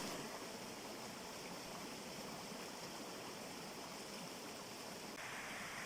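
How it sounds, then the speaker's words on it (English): A river stream in Exmoor woodland flows in a continuous soft rush of water, an even broadband hiss that never changes, quiet and unbroken by voices. "We've managed to find a place right by the river, so we got a clean water source."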